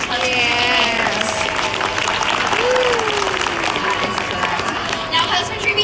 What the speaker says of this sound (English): A round of applause for Kelby and our awesome husband.